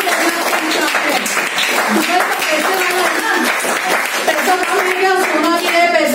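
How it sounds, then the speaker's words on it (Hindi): Audience clapping at a motivational speech, a busy spread of hand claps running throughout and mixed with loud voices and amplified sound, close and strong. "तालियां ठोकनी चाहिए"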